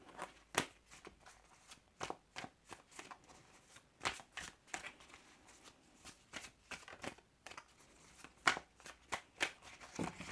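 Tarot cards are shuffled close by in a steady series of soft riffling and snapping bursts, quiet and continuous with no talking.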